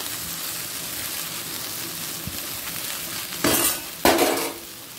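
Chopped red amaranth leaves drop into a pan of onions and turmeric frying in oil: a steady, close sizzle, then two loud, hissing bursts as the leaves hit the hot oil.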